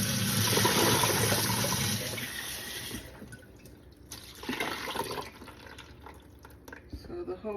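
Rushing running water pours loudly at first as small tumbled and polished beach rocks are rinsed, then drops to quieter trickling and sloshing with occasional splashes.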